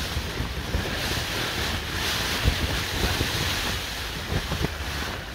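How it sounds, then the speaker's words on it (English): Gusty wind buffets a tent on a Dartmoor wild camp, with a steady rushing roar, scattered patter of rain and occasional flapping thumps close to the microphone. "The weather is fucking awful. It's raining. It's windy."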